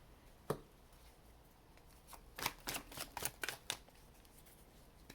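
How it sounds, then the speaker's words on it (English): A deck of tarot cards being shuffled up close, with one soft flick followed by a quick burst of riffling snaps and rapid crisp card clicks, then quiet, with no talking. "I'm gonna go ahead and finish this shuffle."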